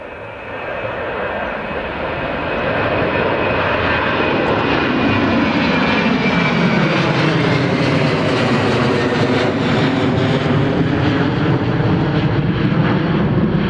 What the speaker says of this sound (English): here's the next one, Ryanair's 738